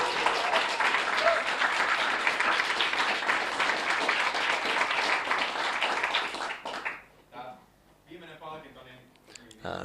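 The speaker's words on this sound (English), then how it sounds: "Let's give a good applause." An audience at a meeting gives a sustained round of clapping that stays loud for several seconds before cutting off, followed by a person talking.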